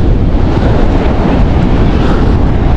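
Waves rolling onto the beach at a resort in Vietnam under an overcast sky, heard as a loud, continuous wash of surf mixed with heavy wind buffeting the microphone, with no voices.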